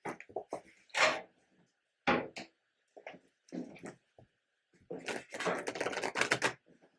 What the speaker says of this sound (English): Let me give it one more good shuffle.